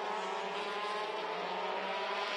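A Formula Renault Eurocup race car at Barcelona locks up under braking, a steady loud engine roar with a faint tyre squeal blending into the sustained racing noise, heard alone without talk.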